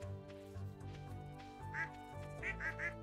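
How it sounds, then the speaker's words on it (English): Baby duck in the farming game Stardew Valley giving a few soft quacks, one alone then three in quick succession, over gentle background music. "Little baby duck."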